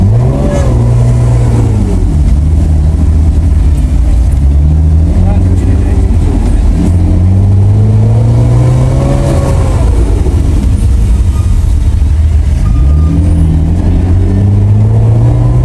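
A BMW E46 with a straight-piped exhaust revs loudly and close up, its engine note rising and falling in several long sweeping pulls, with talk faintly audible underneath.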